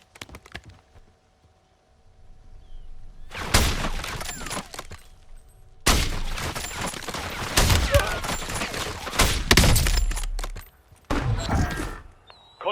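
Bursts of rapid automatic gunfire in a multiplayer shooter video game during solo sniping play, loud volleys broken by short pauses, with no talk over them.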